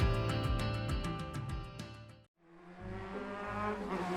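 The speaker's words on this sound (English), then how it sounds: "This engine sound is amazing!" A video game car engine revving hard through rising gear pulls with tyre squeal, a brief cut to near silence, then the engine building again, loud and close with no talk.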